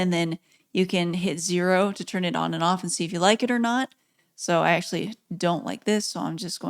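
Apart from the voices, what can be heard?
None of the usual background noises is heard.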